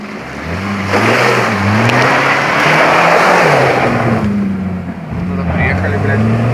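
Car engine revving as the vehicle drives in, loud and close, its pitch rising and falling over several surges while a voice talks over it.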